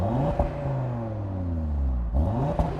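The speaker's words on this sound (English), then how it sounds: "But as standard, the car comes with a normal exhaust," A 2020 Audi TT RS on its standard, normal exhaust revs up close by, a steady engine drone with rising harmonics and a couple of sharper blips at the start and end.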